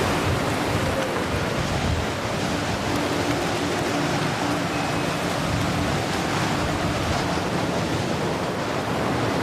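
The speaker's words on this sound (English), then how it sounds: "Definitely 110, 120 mile an hour wind." Typhoon wind at 110 to 120 miles per hour roars as a dense, unbroken rush of loud broadband noise, buffeting close by with no voices heard.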